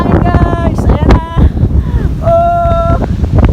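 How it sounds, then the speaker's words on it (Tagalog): Strong wind on top of Tayak Hill in Rizal, Philippines buffets the microphone with a heavy, rumbling roar, while voices call out over it. "Taas ng hangin guys, ayan na."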